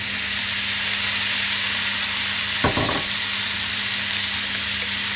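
Chilies and tomatoes fry for an Indian chicken curry, giving a steady close sizzle under a low hum, with one brief clatter of stirring partway through.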